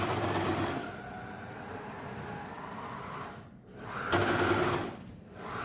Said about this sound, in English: So I'm going to just sew all the way around, just keeping it edge to edge.